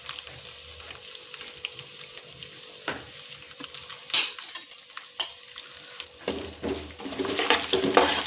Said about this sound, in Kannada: ಚೆನ್ನಾಗಿ ಫ್ರೈ ಮಾಡಬೇಕು.